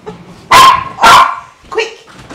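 Two loud, close dog barks in quick succession, followed by a softer yelp or whine, with a quiet room behind them.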